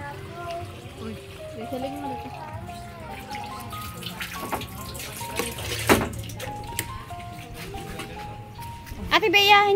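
Water runs from a tap into a drum, a steady splashing flow heard close under ongoing conversation, with a louder gush near the end.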